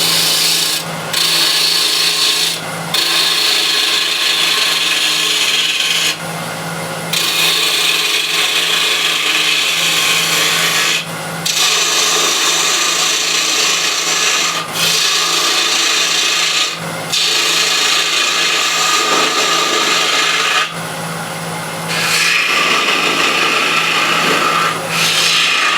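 A wood lathe spins a hunk of salvaged timber as a tool cuts away the excess on the outside, a loud continuous rasping scrape over a steady motor hum, broken by brief pauses between passes.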